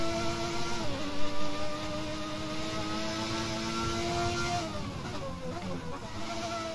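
Racing engines from the F1 2020 video game, with rival F1 cars closing in behind a 1992-era McLaren, whine at steady high pitch and shift as they draw near, layered continuously for several seconds under a faint murmur.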